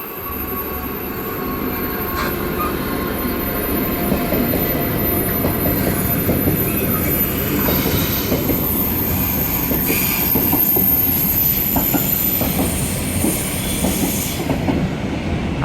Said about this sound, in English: we're going to have a Class 66 passing through.